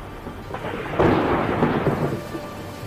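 A thunderstorm with rain in Tonk district, Rajasthan: a deep, loud roll of thunder swells after the first second and rumbles on over a steady wash of falling rain, with no voices.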